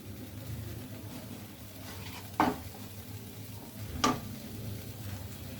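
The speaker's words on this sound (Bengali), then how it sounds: "বন্ধুরা আমার সব মশলা ভাজা হয়ে গিয়েছে। আমরা ভালো করে মশলা ভেজে নিয়েছি।" Ground cumin paste and dried chili powder fry in a pan for an egg korma: a low, soft sizzle runs underneath, and two sharp metallic clinks of a spoon against the pan stand out.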